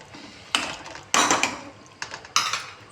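Spoon scraping and clanking against a pan while butter is mixed in for Mumbai street-style pav bhaji: four distinct metallic scraping bursts with short pauses between them, close and fairly loud, with no talking.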